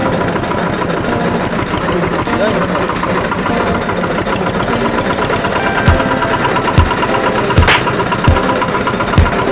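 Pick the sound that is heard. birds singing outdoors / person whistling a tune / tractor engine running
tractor engine running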